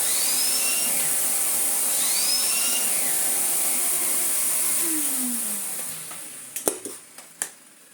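An Electrolux Excellio vacuum cleaner runs on carpet with a loud, steady whine that winds down with a falling pitch and stops. A few sharp clicks and knocks follow in the quiet afterward.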